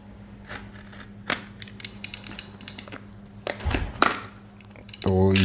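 A cutter slicing open a Redragon package box, with scattered scratchy cuts and tape-tearing crackles at close range, a sharper rip near the end, and steady low hum beneath.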